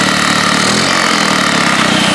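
An engine running on a project-vehicle build with a muffler short of its mounting bolts, giving a loud, close, continuous rattling drone with no voices.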